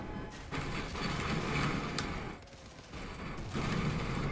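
Heavy cannon fire and gunfire rattle through a vehicle battle in the Crossout video game, a dense loud barrage with brief lulls and renewed bursts over a mechanical rumble.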